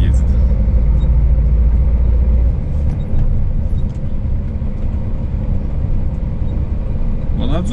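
A car rolls along a road in Armenia, a steady low engine-and-tyre rumble heard from inside the cabin, with a heavier drone early on and a brief knock near the end.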